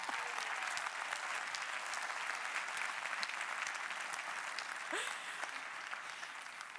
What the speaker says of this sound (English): Let's have an applause for each other.